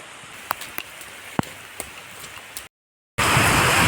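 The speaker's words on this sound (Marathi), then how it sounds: "पाऊस एवढा जोरात येऊन राहिला की समोरचं काहीच दिसत नाही आहे." Heavy rain pours down in a steady, hissing roar with occasional sharp drops or taps, then after a brief silent gap returns louder and denser, with no talking.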